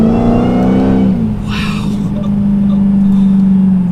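2019 Dodge Challenger Hellcat Redeye accelerating hard out of a turn at full power, a deep loud engine drone heard from inside the car with a brief gear-change dip, and someone talking over it.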